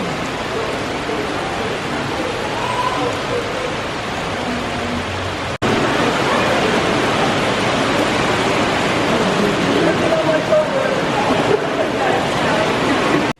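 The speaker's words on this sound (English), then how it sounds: "the clouds started to roll in, it started to rain" Heavy rain pours during a thunderstorm in the gardens of Chiswick House, London, a dense, steady hiss that grows noticeably louder partway through and then holds at full strength.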